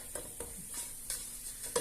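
Unniyappam batter frying in hot oil in a Kannur-style pan, a steady crackling sizzle with a few sharper stirring and scraping clicks of a utensil against the pan, close and moderately loud with no voices.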